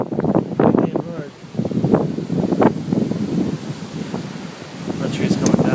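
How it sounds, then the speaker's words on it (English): Strong hurricane winds during Hurricane Sandy roar and buffet the microphone in a steady low rumble with gusty surges, while people talk over it. "wind's blowing."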